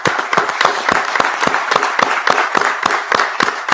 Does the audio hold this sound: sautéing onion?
no